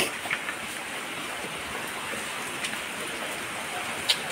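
Steady rain falls throughout, a constant dense hiss of drops with a few slightly louder splashes close by and no voices.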